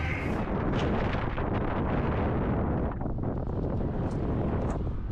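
Strong wind gusting across the microphone at a Monte Carlo Rally stage, a continuous low rumbling roar with a few brief higher whooshes.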